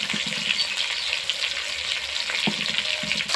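Pieces of fish frying in hot oil in a pan give a loud, continuous close-up sizzle and crackle, steady throughout with no talking.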